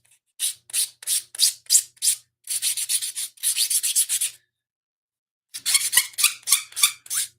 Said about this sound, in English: I'm beveling this edge just a little bit so that when it goes up against the top here